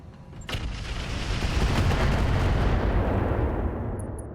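A rotary autocannon firing in the RogueTech mod of the BattleTech strategy game, a sudden onset of dense rapid booming shots that roll together into a sustained loud rumble before fading slightly.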